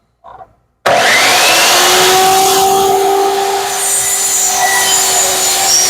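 A power saw cuts wood for a robin nesting box, starting abruptly after a brief knock and running as a loud, continuous, steady whine and rasp.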